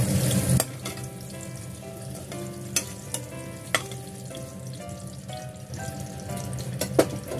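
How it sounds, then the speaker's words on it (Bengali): Turmeric-coated potatoes frying in hot oil in a pan, a steady close sizzle with occasional sharp crackles and pops throughout, no talking. "এখানে আমার আলুগুলো ভাজা হয়ে গেছে"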